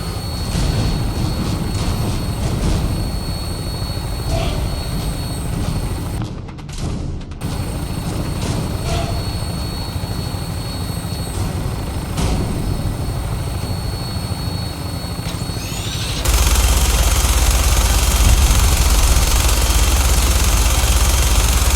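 Aircraft on final approach in the video game Fallout 4, a steady droning engine and rotor hum that continues throughout and swells louder near the end, with no talk.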